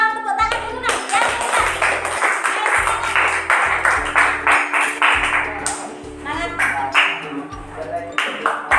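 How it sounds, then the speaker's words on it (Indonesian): Children in a classroom clap together in a steady patterned rhythm, sharp bursts of hands repeating in regular groups, with chatter and voices running over the clapping. "Tepuk tangan dulu nak, ya."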